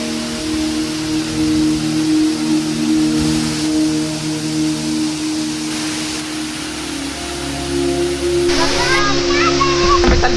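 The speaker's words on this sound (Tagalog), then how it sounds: "eto na tayo sa falls!" Batlag Falls in the Sierra Madre gives a loud, steady rushing roar that fills the whole clip without a break, with faint voices near the end.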